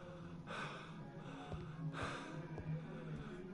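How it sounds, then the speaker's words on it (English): A Heavy Rain character lets out a long yawn, two drawn-out breathy inhales and exhales with a soft snort-like catch, heard up close and quiet over a low game ambience. "Big yawn."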